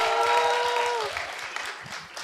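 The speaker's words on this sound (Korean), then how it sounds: "박수 한번 주세요" A studio audience at a talk show claps steadily, the dense applause starting under a sustained voice and then fading out over about two seconds.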